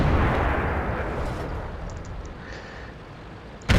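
M53 artillery in a video game, the tail of a heavy HE shell blast rumbling loud and close, slowly fading over a few seconds before a second sharp boom cuts in at the very end.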